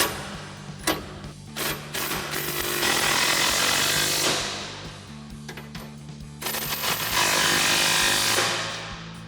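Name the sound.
impact wrench tightening 15mm bumper bracket bolts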